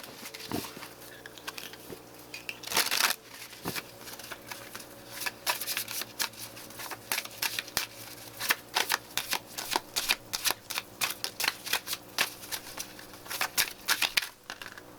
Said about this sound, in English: today we're going to do a live shuffle